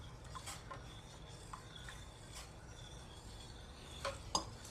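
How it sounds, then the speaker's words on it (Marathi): Green lima bean madga batter is stirred in a pot, giving quiet intermittent scraping and light clinks of a spoon against metal in an otherwise calm kitchen. "एकसारखं हलवायचं आहे।"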